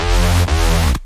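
A Harmor synthesizer patch in FL Studio, heard without its phaser effect, plays a loud, thick, buzzing bass tone that dips once briefly and then holds before cutting off abruptly.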